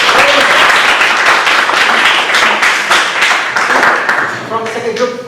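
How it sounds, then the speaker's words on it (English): Audience applause fills a classroom-style lecture session, a dense steady wash of many hands clapping for several seconds before thinning out near the end as voices begin to come through. "Okay, good applause."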